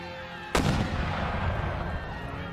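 Mortar artillery fires during an Empire Total War siege battle. A single loud, deep blast bursts out and trails into a continuous low rumble of distant battlefield noise.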